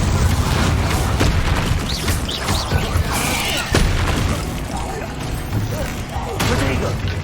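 Spell blasts go off in rapid succession in Hogwarts Legacy, loud booming impacts and crashes over a dense, continuous battle din, with a voice calling out alongside.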